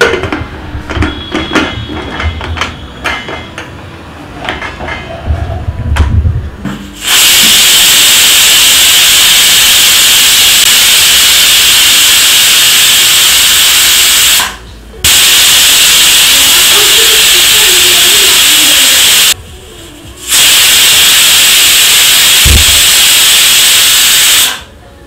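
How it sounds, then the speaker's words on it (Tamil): A pressure cooker cooking vegetable pulao on a gas stove lets out loud, sustained hissing steam whistles, three long blasts separated by brief pauses, after some quieter kitchen clatter. "இப்போ பார்த்தீங்கன்னா 3 விசில் வந்துடுச்சு, கேஸ் ஆஃப் பண்ணிவிடுங்க"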